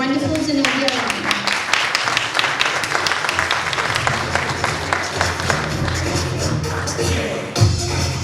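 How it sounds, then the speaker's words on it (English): Audience at a film festival kick-off event claps in a sustained, dense round of applause welcoming a producer to the stage, steady and full throughout with some shuffling beneath. "Please join me in giving a warm round of applause to the wonderful Zenobia Irani."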